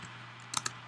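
A few quick keystrokes tap on a computer keyboard while code is typed: a short, close burst of crisp clicks after a brief pause.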